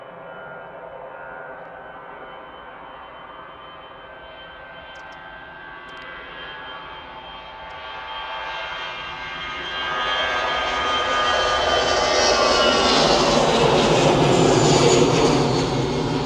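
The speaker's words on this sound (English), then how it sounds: "Airbus A320 easyJet going to Milan" An easyJet Airbus A320 departs for Milan, its jet engines building from a distant hum into a loud, broad roar as it spools up and accelerates.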